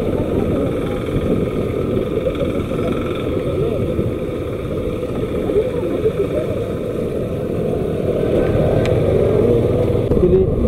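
A motorcycle engine runs during a microphone test on the road before a long ride, giving a steady, continuous low rumble that stays close and fairly loud throughout.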